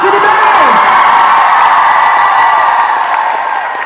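A concert crowd roars for the band with loud, sustained cheering, whoops and clapping blended into a dense wall of noise that eases slightly toward the end.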